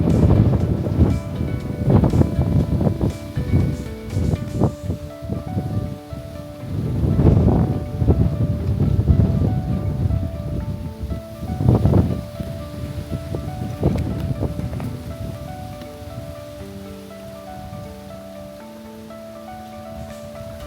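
Strong wind gusts buffet the microphone at a cold, breezy seaside viewpoint on Luzon's eastern coast, near Dingalan. It roars steadily with surges, and faint tonal background sounds run underneath.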